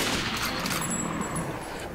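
Dense gunfire from a firefight in the post-apocalyptic shooter Metro: Last Light, a steady rattle of overlapping shots that carries across the full two seconds at moderate volume with no talk over it.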